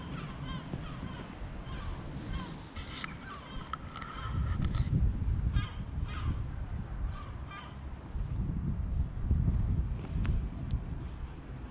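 A flock of birds calls near Dunfermline Abbey in Fife, Scotland, honking and squawking in scattered bursts over steady outdoor wind rumble on the microphone, with voices also present.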